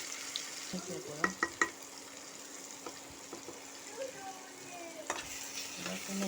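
Spices frying in a pan with garlic and ginger paste, turmeric and chili powder, a soft steady sizzle with a few scraping stirs of a spoon, close by and fairly quiet.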